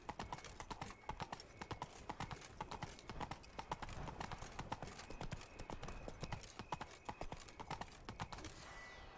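Horse hooves clip-clop in a steady, continuous gallop rhythm while riding through city streets in a video game, fairly close and dense throughout, with a brief voice over the hoofbeats.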